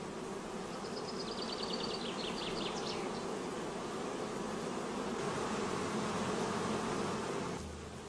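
Honey bees from a queenless colony buzz steadily around a hive, a dense continuous drone close by, with a few higher insect whines drifting past early on and no voices.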